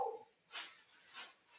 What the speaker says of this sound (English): shut the hell up, dog